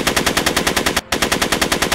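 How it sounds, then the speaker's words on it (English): Rapid automatic gunfire from the Back to the Future adventure game rattles in a loud, close, evenly spaced burst, pausing briefly midway before resuming at the same fast rhythm. "Are you shooting at me?"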